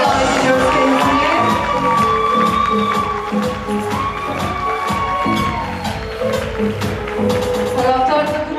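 An award-ceremony crowd claps and cheers loudly and steadily, with shouts and whoops rising above sustained applause throughout.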